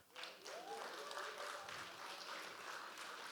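A room of audience members claps in sustained, dense applause at moderate volume, steady from start to finish, with a voice briefly heard over it near the start.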